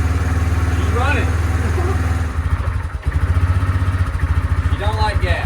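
An abandoned Kodiak 400 ATV engine runs with the choke on, putting out a steady, loud low thrum that dips briefly midway and then resumes. Voices speak over it at moments.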